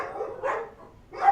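A pet dog barks in a few short, moderately loud bursts at close range, with a pause in the middle before a final yip.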